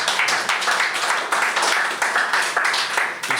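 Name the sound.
applause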